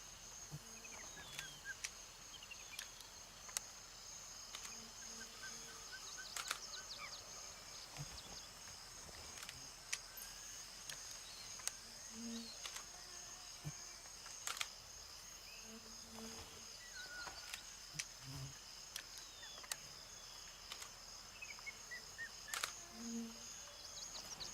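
Crickets, frogs and birds in the woods of the video game Gray Zone Warfare, a steady faint insect drone with scattered chirps and croaks and occasional sharp clicks.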